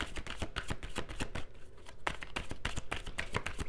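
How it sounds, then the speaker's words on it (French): Tarot cards shuffled and drawn from a deck, a continuous close riffling and flicking of card edges with rapid papery slaps throughout, steady and fairly loud with no voice over it. "Je vais juste tirer une autre carte pour la compléter."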